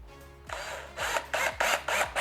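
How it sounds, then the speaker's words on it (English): A power drill whirs through plastic in short, repeated bursts, about five quick pulses in a row, close and fairly loud. "I'm gonna drill through that."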